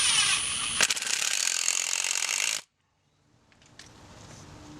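A screw is driven into a wooden target stand with a loud, continuous ratcheting whir that stops abruptly, followed by softer faint clicking and handling sounds.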